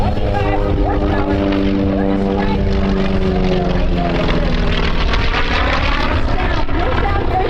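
A T-28 Trojan single-engine propeller aircraft rated at 1,425 horsepower flies past at an airshow, its loud droning engine note shifting in pitch as it passes.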